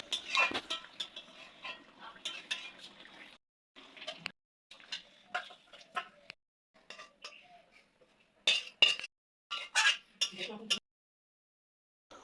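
Vegetable curry with pointed gourd and prawns is stirred with garam masala in a metal pot, giving intermittent scraping and clinking bursts of a ladle against the pot, separated by short silences.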